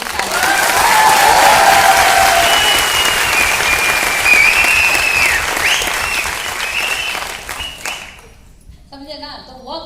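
A crowd applauds steadily at a marketing business meeting, the clapping running under singing or musical tones before fading out near the end.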